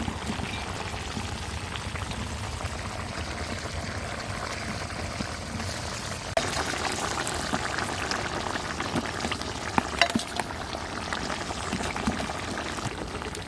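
Pomfret pieces sizzle and bubble in a pan of cooked-down masala with water for Bengali rupchanda dopiaza, a steady wet simmering crackle throughout with a slight rise partway.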